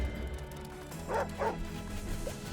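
A dog barks twice in quick succession, followed by a brief yip, inside the Wargroove strategy game over a steady bed of game music and ambience.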